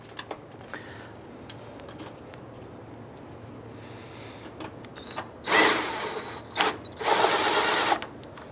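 Power tool driving a bolt into the air box of a 2004-2009 Dodge Durango: quiet handling clicks, then two loud, close bursts of whirring tool noise, no talking.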